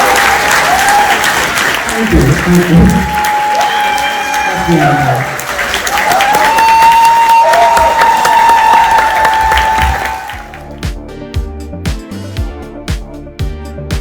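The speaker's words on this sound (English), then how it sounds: "Clap, guys." Stand-up comedy club audience bursting into loud, dense applause with cheers and whoops for about ten seconds, then fading as the room quiets and a voice speaks briefly.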